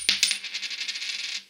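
A standard quarter dropped onto a hard surface: a couple of quick bright clinks followed by a rapid, ringing metallic wobble as it spins and settles, close and alone.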